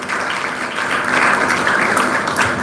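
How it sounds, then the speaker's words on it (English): Applause from an audience at a motivational career talk, a dense, steady wash of clapping that swells slightly midway and holds loud throughout, with no voices over it. "So give him a big round of applause for asking a very good question."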